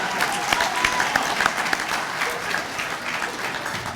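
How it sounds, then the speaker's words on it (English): Wedding guests applaud the bride's father, Paul, during the best man's speech, a full, even round of clapping from a room of people, steady and loud throughout. "So everybody, round of applause for Paul."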